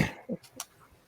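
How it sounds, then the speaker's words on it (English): A person clears their throat in a couple of short, rough bursts, followed by a faint murmur and quiet room noise. "I had to clear my throat"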